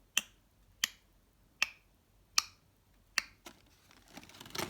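Voice imitating sperm whale clicking, five or six sharp, evenly spaced clicks about three-quarters of a second apart, close and fairly quiet, followed by a brief rustle at the end.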